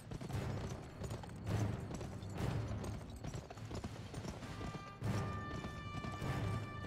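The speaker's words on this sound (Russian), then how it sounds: "Особенно на лошади. Они скачут быстро." A horse gallops fast in the western video game Gun, its hooves pounding in a steady, rhythmic beat throughout, with a few sharper cracks mixed in and no talk.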